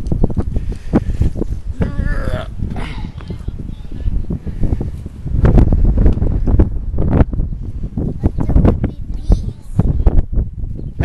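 Gusty outdoor wind buffets the microphone in broad rumbling bursts, loud and close, running under people talking nearby for the whole stretch.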